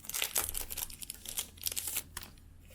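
A little paper card and envelope are opened by hand, giving close, quiet crinkling and papery rustles in several short bursts over a few seconds.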